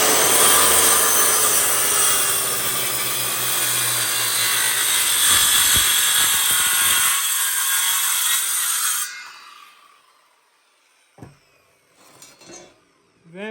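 Sawing through a wooden board for a homemade eco fireplace, a steady loud rasping cut lasting about nine seconds, then stopping, with a few faint knocks and handling noises in the quiet afterward.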